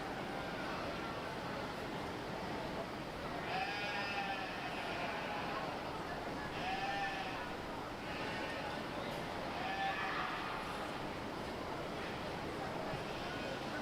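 Sheep bleat in a few short calls at a 4-H and FFA fair breeding sheep show, spaced several seconds apart over a steady, noisy barn or outdoor background.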